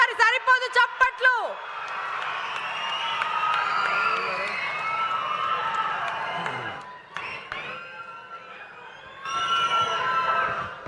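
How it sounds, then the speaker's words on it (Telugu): Audience at a public event applauds and cheers after an introduction, a sustained wash of clapping and crowd noise that dips briefly, then swells again, with a voice at the start. "ఇంకొకసారి సరిపోదు చప్పట్లు"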